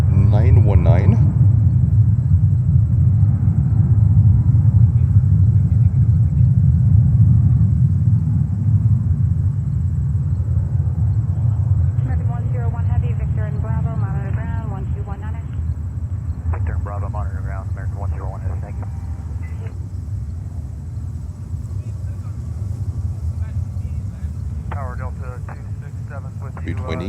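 A loud, deep jet rumble comes from an airliner departing JFK Airport in New York on flight 919 to Atlanta, Georgia, and slowly fades. Voices talk over it in the later part.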